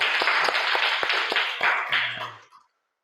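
Hands clap together in a classroom, a dense burst of applause from students that fades out after about two and a half seconds, with a brief low hum near the end.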